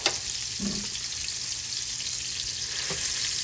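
Hamburger patties sear in a pan, a steady close crackling sizzle throughout with a couple of brief scraping touches near the start and end.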